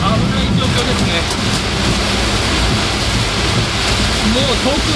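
Heavy cloudburst with hail drumming on a car while driving in Saitama, Japan, a dense, steady roar of rain and water spray filling the whole stretch, loud and unbroken from start to finish.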